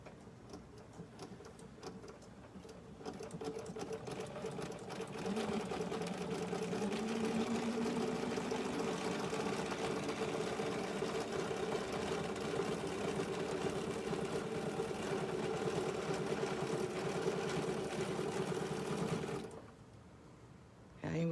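A BERNINA sewing machine runs steadily for about fifteen seconds, a continuous close mechanical whir with a fast even stitch rhythm, starting and stopping with quieter room noise around it.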